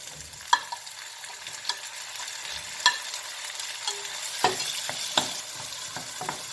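Tomatoes sizzle in a pan with fried onion, garlic and ginger paste for a zucchini curry, while a spoon stirs with frequent sharp scraping clicks over a soft, continuous frying hiss.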